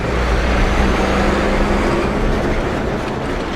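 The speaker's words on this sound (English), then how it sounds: "Big noisy truck." A big noisy truck passes close by on a road, a loud broadband rumble and roar that holds steady for several seconds and slowly eases, heard outdoors from a bike with no talking.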